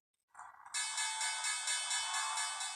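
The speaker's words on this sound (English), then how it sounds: "The opening bell at the New York Stock Exchange" The opening bell at the New York Stock Exchange rings out in a continuous, rapid electric clang, starting softly then jumping to a loud, steady pulsing ring that carries on without a break and without speech.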